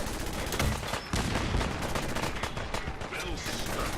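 Rapid turret gunfire in the Fallout 4 video game during a fight on a boat with robots, dense overlapping bursts of shots running steadily throughout with voices mixed in.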